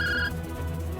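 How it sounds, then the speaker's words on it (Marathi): A phone ringtone for an incoming call sounds in a home, a bright repeating electronic tone that stops partway through and leaves a low background hum. "फोन आलाय"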